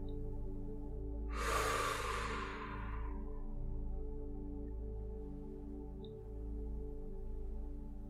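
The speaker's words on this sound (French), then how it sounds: "Prenez une grande inspiration et soufflez plus fort que d'habitude" A strong, breathy exhale rushes out at about 1.3 seconds and fades over roughly two seconds during a guided breathing session, close and clear over a steady low musical drone with no talking.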